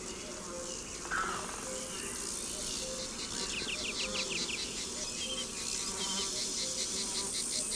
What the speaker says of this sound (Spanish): los zumbidos de las abejas por la mañana